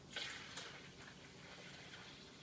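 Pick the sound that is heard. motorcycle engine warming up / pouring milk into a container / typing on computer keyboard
pouring milk into a container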